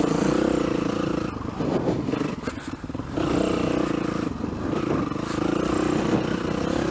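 A dirt bike engine drones and revs continuously while riding off-road, loud and close, with rattling and scraping from the rough ground and a brief dip in power partway through.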